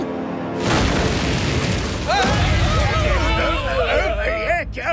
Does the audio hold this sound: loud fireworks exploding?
yes